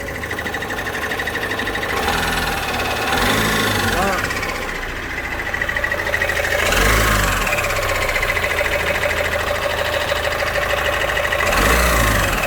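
An Opel Astra K engine with timing chain noise runs close by, a rapid metallic rattling and ticking over its hum, revving up a few times; voices speak briefly over it.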